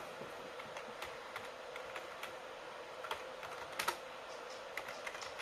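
Quick, light keystrokes rattle across a computer keyboard while a chat message is typed, a close and soft patter of irregular taps over faint room hiss, with no voices.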